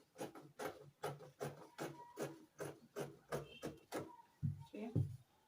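Scissors cutting a dress pattern piece on a table, a regular series of about ten soft snips and rustles, close and quiet, followed by a couple of paper or fabric handling sounds.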